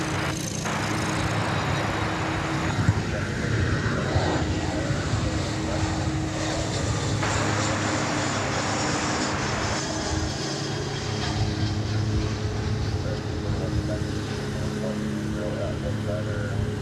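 Delta jet airliner departing an airport, a steady broad engine roar under other airport noise, with voices talking over it throughout.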